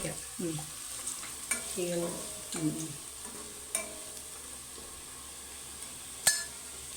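Fried onions with chili, coriander and turmeric powder for a Kerala-style pork curry are stirred in a pan, giving a faint sizzle with a few soft scrapes and occasional sharp clinks of the spoon.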